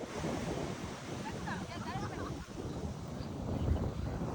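Strong ocean waves break and surge on a fishing beach where a crew hauls a beach seine net, a steady rumbling wash of surf with wind buffeting the microphone and faint voices underneath.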